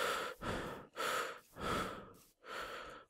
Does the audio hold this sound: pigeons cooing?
no